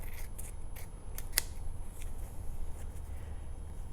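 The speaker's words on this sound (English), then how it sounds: "now I'm just going to take my scissors and trim it up" A few quick snips of scissors trimming excess plastic, close and crisp, with a brief sharp cut standing out amid quiet handling.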